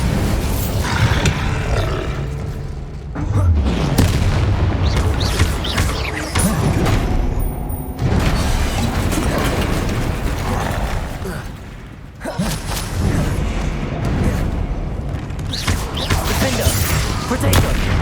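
Bombarda blasting spell explosions in the video game Hogwarts Legacy, loud roaring booms and crackling blasts repeating throughout with brief dips between, dense and close.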